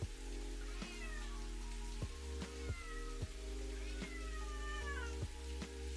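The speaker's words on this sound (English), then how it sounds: "you'll probably hear the cat on the microphone" A cat right beside the microphone meows repeatedly, a series of short, close, rising and falling cries over a steady low hum.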